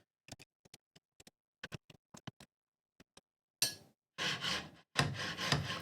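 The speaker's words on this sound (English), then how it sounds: "tighten these 4 screws that are holding those rod brackets in place" Screws being tightened on the Y axis rod brackets of a Prusa MK4S 3D printer: a run of small, close ticks and clicks, then a few louder rubbing scrapes at the end, with no talking.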